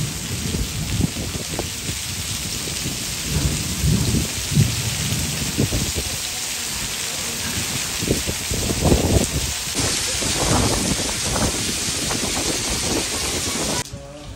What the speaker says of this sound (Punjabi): ਫੇਰ ਬਰਫ ਆ ਗਈ ਫੇਰ ਬਰਫ ਆ ਗਈ